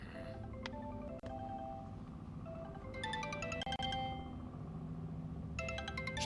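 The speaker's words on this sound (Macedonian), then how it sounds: "Мемати, или фати го исклучи го телефонот или јави се" A mobile phone ringtone chimes in bright melodic bursts, twice, over a steady bed of background music and room noise in a dramatic indoor scene.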